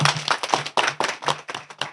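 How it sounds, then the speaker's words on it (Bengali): A crowd at a political meeting claps for an organiser, the applause coming as a quick run of sharp, uneven hand claps close by with no one talking over it. "আমরা সোহেল আমিন ভাই জন্য একটা হাততালি দিই সবাই"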